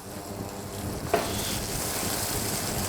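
Chopped red onion added to a hot pan for green moong dal starts a steady, close sizzle that jumps up with a brief hiss and then holds a continuous frying crackle.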